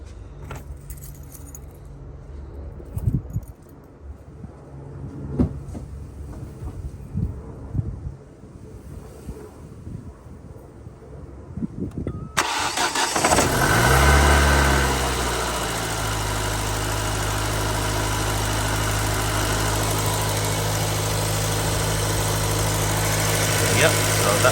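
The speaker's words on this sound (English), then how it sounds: "once we start the engine, we shouldn't feel any sort of misfiring symptoms" Keys jangle and rattle up close before a Ford Focus ST170 engine cranks and fires, then settles into a steady, loud idle that runs on evenly to the end.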